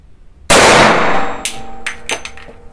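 A single loud, sharp shot from a Desert Eagle .357 Magnum pistol fired one-handed, followed by a ringing metallic tail and a few lighter clanks and clicks.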